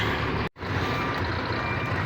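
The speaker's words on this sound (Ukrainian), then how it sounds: "Пікалку поставив, до речі, і на моно. Дуже актуально" Reversing beeper fitted to a Karvi Mk 2170 combine harvester during the corn harvest, sounding as a steady tone over loud, constant engine rumble, with one brief dropout near the start.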